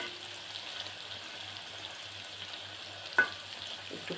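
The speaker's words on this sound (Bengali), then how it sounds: "একটু কড়া করে ভেজে নেব" Shrimp fry in a pan with a soft, even sizzle, faint and close, with one brief clink near the end.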